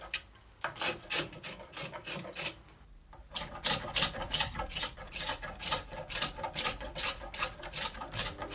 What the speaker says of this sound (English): It's then thinned down with a series of spoke shaves to about half its original diameter.